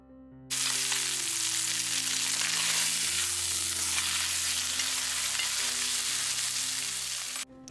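A beef roast sears loudly in a hot pan, a dense, steady sizzle that starts abruptly and holds without pause for several seconds before cutting off, with no voices.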